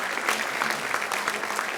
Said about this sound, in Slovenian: vi pa ga pospremite z aplavzom